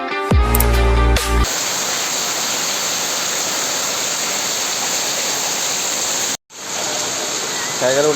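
Heavy rain pours down in a dense, steady roar of flowing water, loud and close, with a brief cut partway through and a short burst of other sound at the start.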